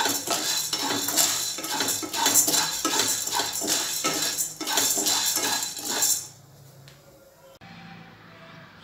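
Chakli bhajani flour mix roasting in a pan, stirred with rapid rhythmic metal scraping and clinking for about six seconds, then quieting to faint low background.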